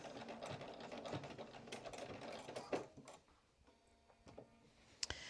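A domestic sewing machine runs in short bursts while back stitching a welt pocket seam on a vest, whirring and ticking up close, then pausing with faint clicks and a sharp tap near the end.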